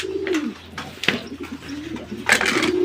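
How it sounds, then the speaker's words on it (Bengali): White Mukhi fancy pigeons coo softly and close by at a loft, in a few low rolling calls with brief pauses between them. "এই দুটো হচ্ছে যে মক্খি কবুতর, সাদা মক্খি"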